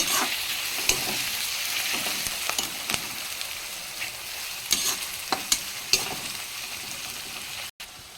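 Chopped tomatoes and slit green chilies fry in a pan with a continuous loud sizzle and crackle, broken by repeated spatula scrapes and taps, ending in a brief cutoff, with no voices.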